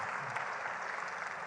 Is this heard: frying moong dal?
no